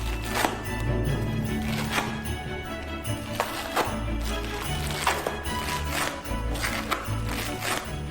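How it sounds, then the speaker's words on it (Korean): Knife chopping food into strips and then cubes on a board, a quick steady run of light taps that stays close and fairly quiet, backed by a constant low hum. "먼저 스트립으로 자른 다음 큐빅으로 썰어주세요."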